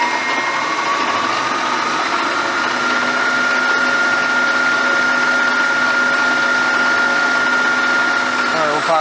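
Spindle of a 1987 Millport 1630 CNC knee mill with a Centroid retrofit spinning at full speed, a loud steady mechanical whine with a sustained tone that rises and holds, running continuously throughout.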